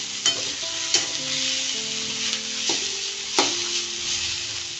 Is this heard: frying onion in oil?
yes